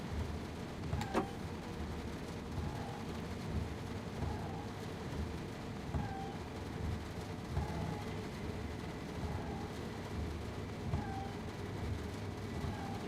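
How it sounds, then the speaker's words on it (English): Steady heavy rain drums inside the Train Sim World 6 train simulator, a dense continuous hiss with faint recurring mechanical tones from the train cab, no voices over it. "God, it's so loud, isn't it? The rain."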